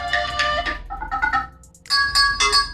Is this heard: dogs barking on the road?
no